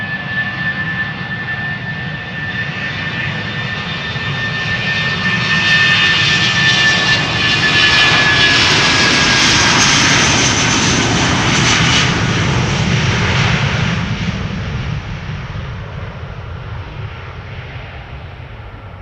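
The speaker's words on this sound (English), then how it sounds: "BA flight 437 A319 to London Heathrow is this." A British Airways Airbus A319 at Amsterdam Schiphol starts with a thin whine over engine rumble, builds to a loud roaring jet surge near the middle, then eases off gradually.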